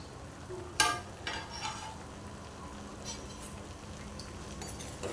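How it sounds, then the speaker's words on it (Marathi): Jackfruit vegetable curry, Konkani style, stirred in a pan, with a few quiet utensil clinks and scrapes standing out from a low, faint kitchen background. "छान अशी भाजी ढवळून घेऊया"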